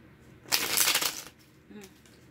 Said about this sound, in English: It's so hard to shuffle really quickly.